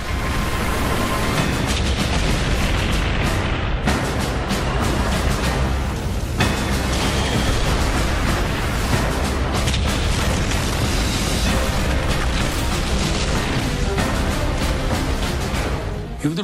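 Soviet anti-tank guns fire during the Battle of Kursk: a dense, continuous roar of booming blasts and rumble, loud and unbroken across the whole stretch, with no clear gaps between shots.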